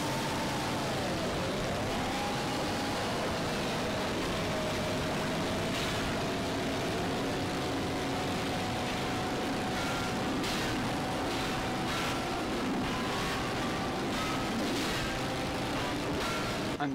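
Kart racing in Pac-Man World Rally at Spooky's Castle: a continuous engine drone with a steady pitched whine that dips and rises early, then holds level under game music and effects throughout.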